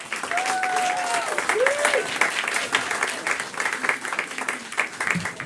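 Applause from an audience at a school showcase for student musicians, steady clapping filling the room throughout, with crowd murmur and a few faint tonal sounds mixed in.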